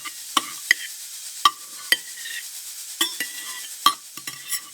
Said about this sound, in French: On entend du bruit dans la cuisine. Des casseroles, des placards, des ustensiles.